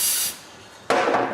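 Carb cleaner sprays onto the throttle body of a Dodge Grand Caravan V6 in two short, close hissing bursts with a brief pause between them.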